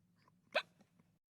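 A single short, sharp hiccup stands alone against a quiet low hum, with a couple of faint softer sounds around it.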